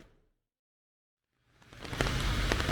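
Heavy rain pouring down in Fukuoka, Japan, rising suddenly after a near-silent pause into a loud, dense, steady roar of rain on surfaces.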